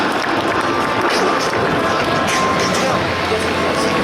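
Dense, continuous applause from a large crowd of spectators at the Paris Air Show as the Patrouille de France passes, loud and steady throughout with a babble of voices mixed in.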